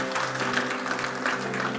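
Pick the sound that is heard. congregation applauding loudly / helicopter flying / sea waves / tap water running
congregation applauding loudly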